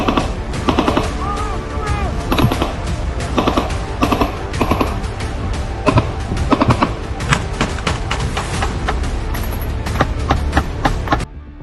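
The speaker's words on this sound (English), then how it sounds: "The sound of bullets echoes deep in the forest" Gunfire in a forest battle during a war between Ukrainian and Russian forces, heard as dense, rapid volleys of shots that crackle almost continuously at close range, with no pause across the stretch.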